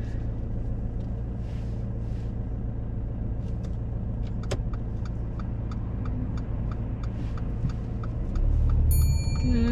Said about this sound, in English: You can feel that the car's resisting the move off, right?